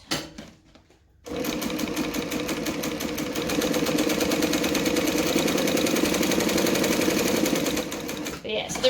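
A domestic sewing machine runs a long, steady stitching burst through a bag strap, a fast rhythmic mechanical whir close up after a brief quiet start, ending in a short pause and restart.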